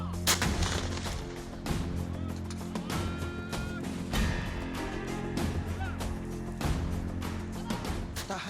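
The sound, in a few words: Vampire and Grad rocket artillery firing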